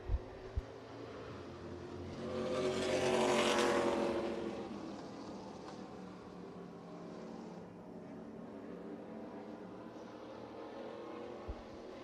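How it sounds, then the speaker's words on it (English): Super Cars roar through a restart at Salem Speedway, a field of race engines swelling into a loud, close pass around the three-second mark before settling into a steady distant drone around the oval. "we'll look for the restart here for the Salem Speedway Super Cars"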